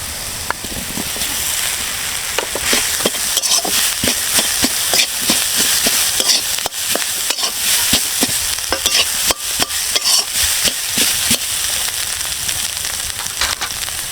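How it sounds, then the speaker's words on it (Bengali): Mashed boiled potatoes go into a hot pan with oil and are stirred, giving a loud, steady sizzle with frequent scraping clicks of a spoon against the pan over about fourteen seconds and no talking. "এখন আমি ম্যাশ করে রাখা আলুটা দিয়ে দেবো।"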